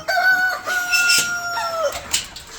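A native-breed rooster crows loudly with a long, drawn-out call while hens cluck nearby in an enclosed poultry farm, followed by a few shorter calls.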